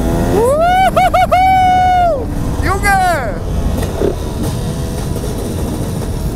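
A two-stroke motorcycle engine revs in quick throttle blips, a rising and falling whine repeated several times up close, followed by a second shorter rev, with a voice talking over the engine noise.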